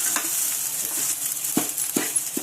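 Spices fry for a tempering of khichdi in a home kitchen: a soft, steady sizzle with a few sharp clinks of a spoon stirring in the pan.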